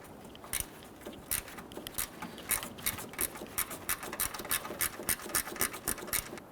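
A ratchet loosening bolts on a power steering pressure line of a 2006-2010 Hummer H3, a quiet string of quick clicks in steady bursts, close up with no talk.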